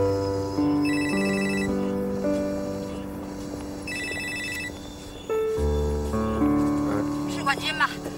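A phone rings out in a melodic ringtone pattern while a call is being dialed, the tonal phrases repeating clearly at moderate loudness, with a few brief background noises between them.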